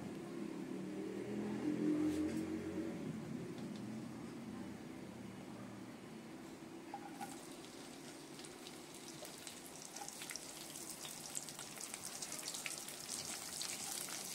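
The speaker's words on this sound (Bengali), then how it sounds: "প্রথমে ঢ্যাঁড়সটা ভাজবো" Okra fried in a pan for a prawn and mixed-vegetable lunch, a steady low sizzle running throughout, louder in the first seconds and then a softer, even crackle with faint background noise.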